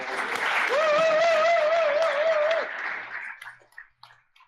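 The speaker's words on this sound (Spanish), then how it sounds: "Un aplauso para él, por favor." Audience applause for a speaker at a MedellinJS JavaScript meetup, steady and full for about three seconds before thinning into a few scattered claps.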